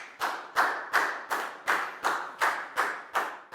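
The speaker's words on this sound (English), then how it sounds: "a big round of applause for Nadia" A primary school class claps in unison for a classmate, nine sharp, evenly spaced group claps in a steady rhythm, close and clear with no talking.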